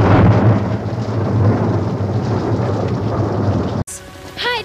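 Loud thunder rumbles from a lightning strike on a church, heavy and sustained over steady rain, then cuts abruptly to quieter sound near the end.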